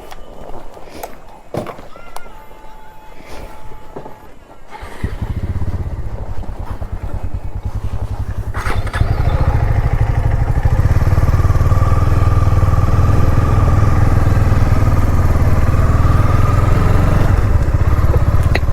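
Motorcycle on a long road trip from Bangalore toward Kerala, the engine starting up and then running steadily and loudly up close, with a person talking briefly over it early on.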